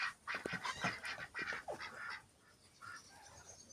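Farmyard ducks and geese call in a run of honks and quacks, moderately near and fairly quiet, the birds tucked inside their small poultry house.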